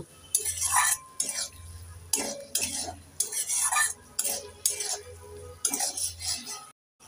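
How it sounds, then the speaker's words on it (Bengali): Spices cooked down with mustard paste and a splash of water in a pan for a tangy puti fish and hog plum curry, stirred in rhythmic bursts of metal scraping and clinking against a soft sizzle, near and alone. "এবার নেড়ে চেড়ে 2 মিনিট মশলাগুলোকে ভালো করে কষে নেব"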